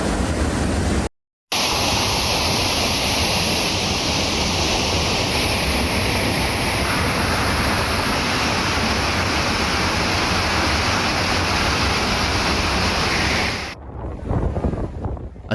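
Violent waves flooding a shoreline, a constant heavy roar of surf mixed with strong wind buffeting the microphone, broken by a brief cut near the start and easing at the very end.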